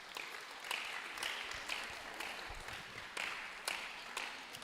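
Audience clapping at a royal community development and donation ceremony in Abura, a quiet, fairly distant wash of applause with a few sharper individual claps standing out, continuing steadily without voices.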